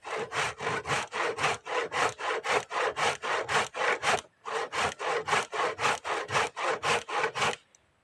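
Rhythmic back-and-forth rasping of a hand saw cutting through wood, about two strokes per second, close up, with a short pause midway.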